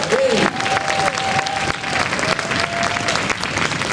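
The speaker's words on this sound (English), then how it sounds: "So, big round of applause." A concert audience applauds the percussion section at a school band concert, steady full applause from a crowd with a faint voice or tone drifting over the clapping.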